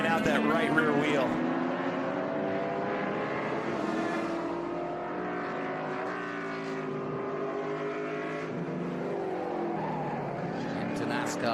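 A Ford Escort race car is driven hard around the track at VIR, its engine note rising and falling through gear changes, heard at a distance beneath steady commentator talk.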